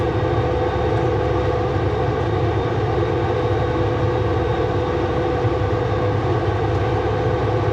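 A heavy truck engine labouring in low gear on a climb, with the cooling fan running, a loud steady drone with strong harmonic tones and no talk.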